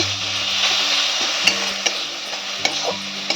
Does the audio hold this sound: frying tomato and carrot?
yes